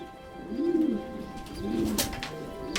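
Pigeons coo softly twice, each a low rolling call, over a faint background hum.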